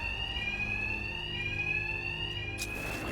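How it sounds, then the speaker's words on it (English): In Batman: Arkham Knight, a loud, steady electronic alarm blares continuously at close range, its shrill ringing tone unbroken, with a brief clatter near the end. "My attacks will be covered by the noise of the alarm."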